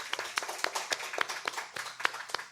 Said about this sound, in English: Let's have a round of applause for our readers today